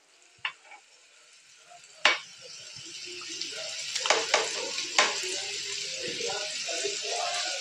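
Paneer tikka pieces flipped in a hot pan, with a few sharp clatters from the turning, then a sizzle that swells and holds steady, with brief speech over it.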